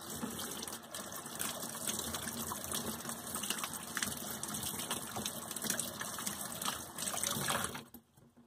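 Water gushing and splashing while plastic model horses are rinsed, a continuous close hiss of running water from a tap that cuts off abruptly near the end.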